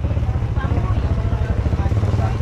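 A motorcycle engine runs steadily close by with a low, pulsing rumble throughout, while people talk over it.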